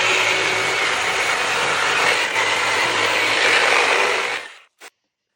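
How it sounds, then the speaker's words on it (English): Aluminum wheel being hand-sanded with 800 grit sandpaper, a steady, loud, close abrasive hiss running for over four seconds before stopping abruptly, followed by one brief scrape. "After 400 grit, we switched over to 800 grit to slowly start getting these sanding marks out."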